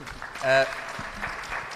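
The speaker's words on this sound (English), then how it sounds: "Round of applause." At a launch event for an agriculture stakeholder platform, brief, moderate audience applause rustles in the background while a person speaks over it.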